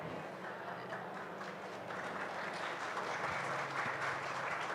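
A conference audience at a space event in Paris claps steadily, a dense continuous wash of many hands at moderate distance, slightly swelling toward the end, with no talk over it.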